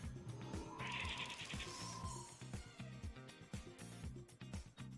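A sheep bleats on the board in a card video game, a wavering cry that sits over a busy, rhythmic game soundtrack of repeated pulsing tones, fading as the music carries on.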